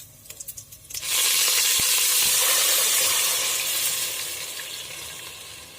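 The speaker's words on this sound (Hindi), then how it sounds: "पानी डालिए।" A loud burst of hissing sizzle erupts as water hits a hot pot of whole spices for mutton biryani, then settles into a steady bubbling hiss.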